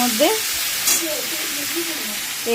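Fish head chorchori frying and being stirred in a pan, a loud close sizzle with scraping stirs throughout, faint talk in the background.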